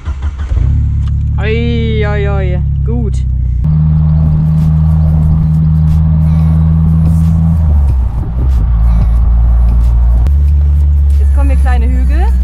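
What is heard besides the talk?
Jeep Wrangler YJ driving through forest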